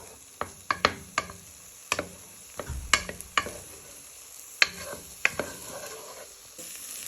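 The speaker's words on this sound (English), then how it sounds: "we're just frying our onion and garlic for our base" Onion and garlic fry softly in a pan as the base for pumpkin soup, a faint sizzle under scattered clicks and scrapes of a utensil stirring, close and quiet.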